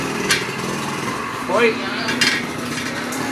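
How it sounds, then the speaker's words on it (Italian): Two hammer blows knock a tire off its wheel rim after it is levered and bent with a straight bar in a tire shop, sharp metallic knocks against steady workshop noise, with someone speaking briefly. "poi con martello dai due colpi e così esce la gomma"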